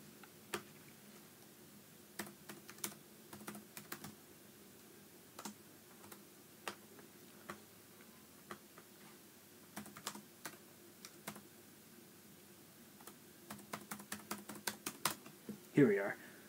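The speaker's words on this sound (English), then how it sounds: "I'm trying to really quickly type this in" Quick typing on a computer keyboard, faint, close clicks arriving in short irregular bursts that grow busier toward the end, with a brief louder bump at the close.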